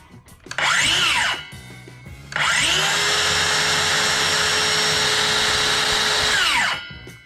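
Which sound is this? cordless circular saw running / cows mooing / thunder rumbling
cordless circular saw running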